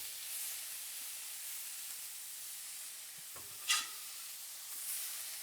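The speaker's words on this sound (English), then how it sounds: "And then we'll probably try to sear these on like roughly 3 sides, just so we make sure we cook them all the way around." Meatballs sear in a hot pan with a faint, even hiss that runs throughout, broken once by a single sharp clink of a utensil, with no talking.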